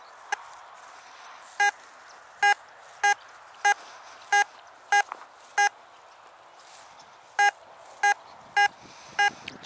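Armand Moneta metal detector emitting a series of about a dozen sharp, identical electronic beeps in an irregular rhythm as large metal objects like belt buckles are swept, loud and close with faint rustling between.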